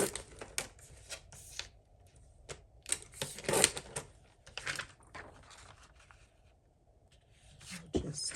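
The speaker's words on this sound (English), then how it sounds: "I need to cut off a little on the top" Planner paper trimmed along the top and bottom edges, with a quick series of close crisp snips and paper rustles in irregular bursts and quiet pauses between them, with no talking.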